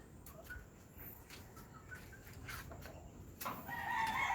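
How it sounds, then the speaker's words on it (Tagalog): Chickens cluck and chatter softly at close range, scattered short calls over a low background rumble, growing a bit busier toward the end. "Yan, ang alaga nating manok."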